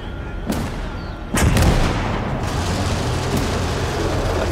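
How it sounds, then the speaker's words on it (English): Grenade explosions and gunfire in the WW2 strategy video game Call to Arms: Gates of Hell: a couple of sharp distant blasts, then a heavy boom that rolls into a sustained, loud rumble of battle. "Oh, I think they're throwing grenades at me."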